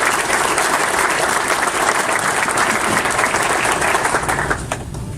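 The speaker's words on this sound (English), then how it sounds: "I think that you ought to give yourselves a round of applause" A press conference audience at a professional soccer club launch breaks into sustained applause, a thick, even roar of clapping that stays full before thinning slightly at the very end.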